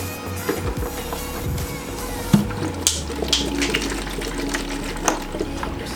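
A pump in a PC water-cooling loop forcing water out bit by bit: a low steady hum under light splashing and gurgling trickles, with a few soft knocks.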